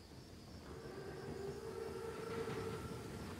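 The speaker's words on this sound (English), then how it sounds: "Train's right on time." An armored train in the World War II shooter Call of Duty: WWII rumbles steadily on the rails as it approaches, a continuous low mechanical drone with faint tonal whine, moderately near and without speech.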